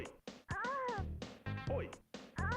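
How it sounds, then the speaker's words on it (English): A house cat meows repeatedly in a series of close, loud, pitch-gliding cries, with short gaps between calls and no talking. "My cat was getting into trouble."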